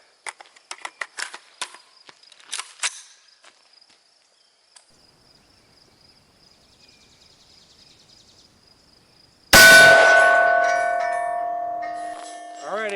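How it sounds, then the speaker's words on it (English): An AR rifle fires a .223 Remington round at a Caliber Armor III+ steel plate, giving one sharp, loud crack with a ringing metallic tail after a stretch of faint clicks and quiet. "Let's step it up to an AR with 223 Remington."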